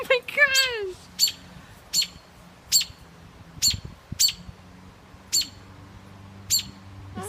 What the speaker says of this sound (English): I swear this bird is trying to kill me.